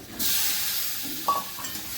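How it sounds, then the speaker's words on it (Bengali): Pointed gourd pieces go into a hot pan of fried ground spices and are stirred, giving a steady close hiss and sizzle with a brief spatter of scraping. "কাঁকরোলগুলো দিচ্ছি"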